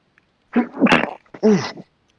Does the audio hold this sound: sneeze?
yes